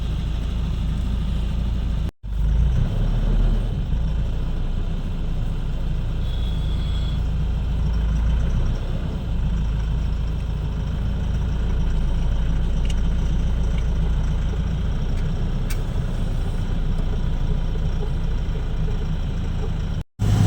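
A loaded truck on the road to Ambikapur, Chhattisgarh, with its engine running at a steady, moderate drone for about twenty seconds, broken by one brief dropout near the start, with no talking.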